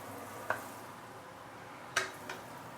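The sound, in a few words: sautéing curry powders in a pan over low heat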